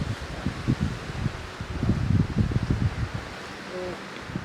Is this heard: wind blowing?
yes